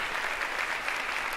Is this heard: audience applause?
yes